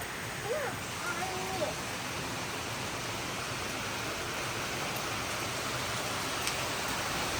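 Steady evening rain falls in a dense, unbroken hiss that stays level throughout, with a faint voice briefly audible near the start.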